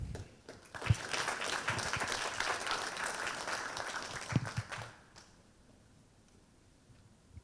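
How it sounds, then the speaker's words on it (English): A conference audience claps for a panelist being introduced at a cybersecurity panel, a steady patter of applause for about five seconds that fades out into quiet. "Feel free to clap"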